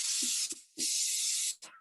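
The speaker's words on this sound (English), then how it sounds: "The dish is sprayed." Cooking spray hisses onto a 9x13 baking dish in two long bursts and a couple of short puffs, close and clear.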